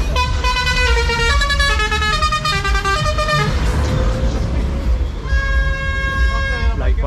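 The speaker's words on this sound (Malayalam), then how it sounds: "ഇപ്പോൾ ഒരുപാട് വണ്ടികൾ അങ്ങോട്ടും ഇങ്ങോട്ടൊക്കെ പോകുന്നുണ്ട്" Heavy road traffic passing during a temple festival procession in Munnar, with loud, repeated multi-tone vehicle horns blaring close by over engine rumble and people talking.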